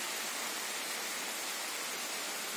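Light rain falling outdoors over a green picnic area where shashlik was being grilled, a steady, even hiss of drops with no talking, soft and constant throughout.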